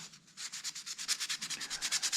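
Sandpaper rubbed back and forth over the edges of a wooden toy tractor, a steady run of about twenty quick, even scratchy strokes, close and fairly quiet, with no voices.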